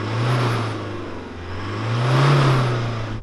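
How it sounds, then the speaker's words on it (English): Four-cylinder diesel engine of a pickup truck revving twice, each rev swelling up and falling back, loud and close with a low droning tone and no talk over it. "Nick, let's hear your 4-cylinder diesel."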